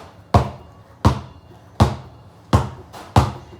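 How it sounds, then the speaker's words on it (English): A basketball dribbled with the fingertips gives five crisp, close bounces at a steady rhythm of roughly one every 0.7 seconds, each a sharp thump that decays quickly, with no talking. "the ball should be bounced with your fingertips, not the palm of your hand."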